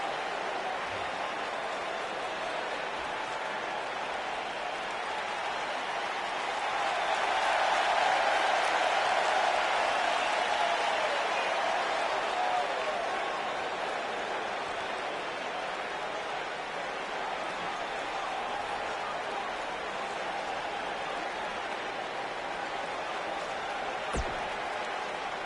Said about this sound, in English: Listen to this Detroit crowd.